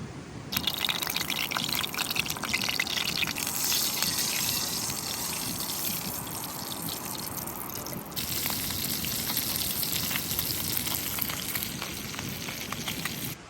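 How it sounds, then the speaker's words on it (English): Trout with rosemary and sage frying in a pan over an outdoor fire on a mountain, a loud continuous sizzle and crackle with bursts of hissing spatter. "let's get this baby fired up and get our trout cooking"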